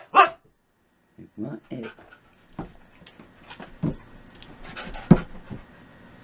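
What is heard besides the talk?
husky dog barking and panting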